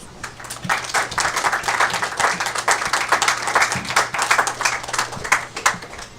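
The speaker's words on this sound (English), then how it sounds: "Look at that, 3 people applauded" Steady applause from a small crowd of about three people, dense overlapping claps at an even level throughout, with a faint low hum underneath.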